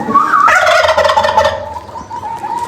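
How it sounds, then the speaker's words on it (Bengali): A turkey on a poultry farm gobbles loudly in a rapid, warbling burst, followed by continued bird calls with a steady tone in the background. "আর এই টার্কিটা দেখে খুবই ভালো লাগতেছে"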